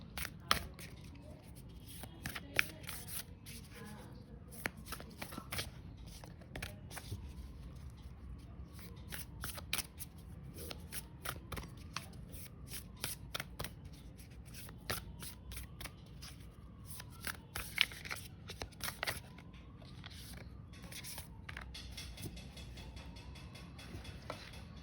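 Tarot cards being shuffled during a weekly horoscope reading, a steady run of soft, quick riffling clicks and flutters that continues for a long stretch at moderate closeness, with no talk over it.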